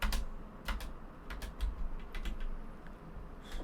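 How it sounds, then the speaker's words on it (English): Soft keyboard space bar clacks tap out an irregular rhythm over a low background hum, quiet and close through a HyperX QuadCast 2 microphone, with a few slightly heavier thuds among them. "you can only just hear the space bar"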